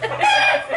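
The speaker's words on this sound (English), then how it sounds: "There's chickens." Chickens cluck close by in a workshop, a short busy burst of fowl calls that fills the moment without any talk over it.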